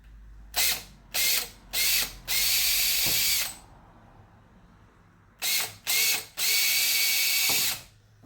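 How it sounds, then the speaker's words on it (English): Small drill with a tiny bit whirring through plastic in short bursts, drilling a guide hole on a Sea-Doo Spark 2-up: three quick pulses, then a longer run, a pause, and the same pattern again, close up and loud. "I then use a pretty tiny drill bit, make a guide hole."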